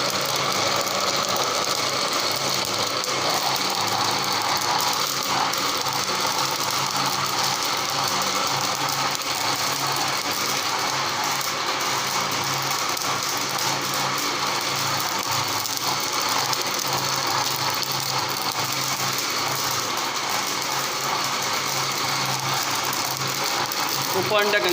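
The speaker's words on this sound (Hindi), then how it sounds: "जूसर मशीन चलाएंगे, ये जग ऊपर रखेंगे।" An electric juicer machine blending falsa sharbat in a jug runs continuously with a steady whirring, rattling motor hum, while a person talks over it at times.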